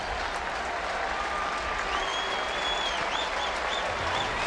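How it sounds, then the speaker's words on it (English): A baseball stadium crowd applauds pitcher Todd Wellemeyer at a Giants home game, a broad continuous wash of clapping and cheering from thousands of fans, with faint whistles above it. "Nice round of applause for Todd Wellemeyer"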